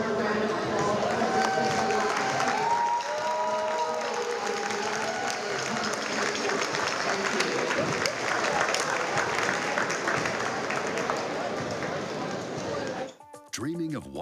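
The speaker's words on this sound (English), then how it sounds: "one more round of applause for" Steady, loud crowd applause and cheering fill a high school boys basketball gym for most of the stretch, cutting off abruptly near the end as a brief announcer-like voice and other sounds take over.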